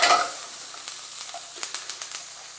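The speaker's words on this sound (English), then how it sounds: "ready to reintroduce our bacon that we've drained into the pan" Drained bacon sizzles after going back into a hot pan, with a soft steady hiss and a few light clicks and taps of stirring, close up and with no talking.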